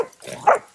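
A single short bark from a hunting dog on a boar hunt, close and sharp, over faint background noise.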